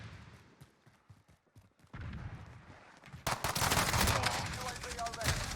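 Cluster strike explosions in Modern Warfare: scattered distant pops give way to a dense, loud cascade of rapid blasts and crackling gunfire that keeps building to the end.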